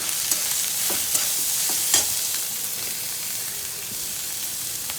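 Grated raw carrots stir-fry with cumin in a pan, a steady close sizzle with soft scraping stirs and a few light pops throughout.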